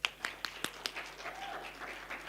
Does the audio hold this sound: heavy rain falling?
no